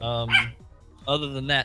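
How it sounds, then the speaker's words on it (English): A dog barks loudly and close by, two or three sharp barks with a pause between them, mixed with someone speaking over them. "I thought that was my dog."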